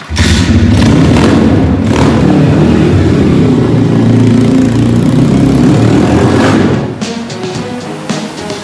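A motorcycle engine revs hard and loud up close for several seconds, a sustained rough roar that drops to a lower idle near the end, with no talk over it.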